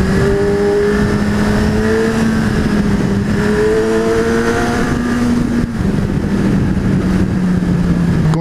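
A 2017 Kawasaki Z1000 motorcycle pulls hard in third gear with a loud, continuous engine drone that climbs steadily in pitch, dips briefly and then climbs again. It is recorded close up from the rider's position with wind rush, and nobody speaks.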